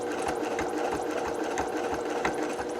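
Close by, a sewing machine stitches the seam of a fabric bowl cozy, running as a fast, steady mechanical whir with a rapid needle rhythm and no talk.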